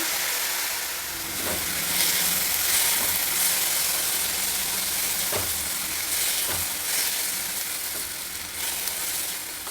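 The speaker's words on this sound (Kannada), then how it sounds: "ಹೈ ಫ್ಲೇಮಲ್ಲಿ ಇಟ್ಕೊಂಡಿದ್ದೀನಿ ಚೆನ್ನಾಗಿ ಹುರಿಬೇಕು ಟೊಮೆಟೊ ಎಲ್ಲ ಮ್ಯಾಶ್ ಆಗುವಷ್ಟು ಹುರಿಬೇಕು" Finely chopped tomatoes and two green chillies fry on high flame in a pan, a loud continuous sizzle and hiss broken by several sharp stirring scrapes, with no talk.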